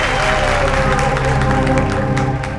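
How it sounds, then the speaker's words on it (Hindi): Loud, sustained audience clapping fills a charity event hall, a dense wash of applause from a crowd with some voices mixed in. "क्या बात है, तालियां बनती है इस बात पे"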